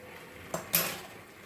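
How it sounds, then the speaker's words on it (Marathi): A metal kadhai (wok) set down on a gas stove, giving one soft knock followed a moment later by a louder clatter of metal. Both are close and brief against a quiet kitchen. "गॅसवर कढईत आपण ठेवतोय"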